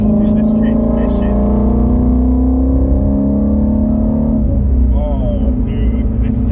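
A Ford Mustang GT350 engine drones loud and close from inside the cabin while driving, its pitch climbing steadily under acceleration before easing off, with talk over the engine.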